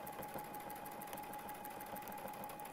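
Sewing machine stitching along a Westalee ruler during free-motion quilting, a quiet continuous motor hum with a fast, even needle patter, heard faintly and without interruption.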